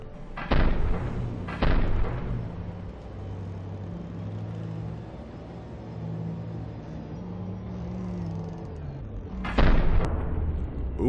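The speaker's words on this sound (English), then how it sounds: "my ship has begun firing at that thing" A warship in the naval combat game From the Depths fires artillery at an enemy, with three heavy booming shots spaced apart over a low engine rumble, loud and close with no talk.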